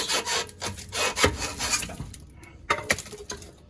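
A rear shock absorber on a Toyota Sienna is wiggled off its spindle, giving close metallic rubbing and scraping with a few sharp knocks and clunks in an uneven rhythm.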